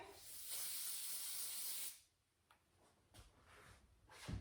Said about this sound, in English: grab a little bit of your new control medium spray